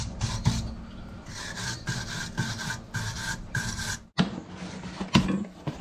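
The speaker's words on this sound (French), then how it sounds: "passer un coup de brosse sur le moyeu" A brush scrubs the wheel hub of a Volkswagen Golf VI during a brake disc and pad replacement, making steady raspy strokes in quick rhythm, then a short pause and a few harsher scrapes, close and alone.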